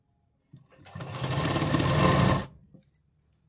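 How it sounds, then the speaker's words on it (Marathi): A sewing machine runs one continuous burst of about two seconds while stitching piping onto a blouse, close and mechanical, with brief handling clicks before and after. "आपण एकदाच शिलाई मारून घेणार आहेत"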